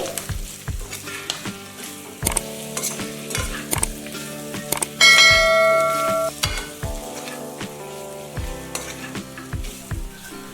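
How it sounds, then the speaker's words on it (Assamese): Pork sizzles and fries in a pan with red chili, coriander and cumin powder, with steady hissing under repeated sharp clacks of a spoon stirring and scraping, loud and close. "তাতে মই ৰেড চিলি পাউডাৰ, ধনিয়া পাউডাৰ আৰু জিৰা পাউডাৰখিনি দি পুনৰ অকণমান সময়ৰ কাৰণে ভাজি লৈছোঁ।"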